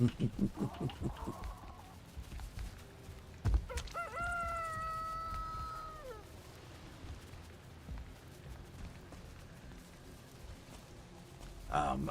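Chicken sounds from a hen in the Valheim video game, with a crowing-like call holding steady for about two seconds, brief clucks around it, and game background noise throughout.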